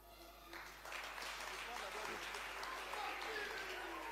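A comedy show audience in a French-speaking venue breaks into applause after a brief quiet moment, a bright crowd clapping that swells and holds, fairly faint and lightly mixed with voices.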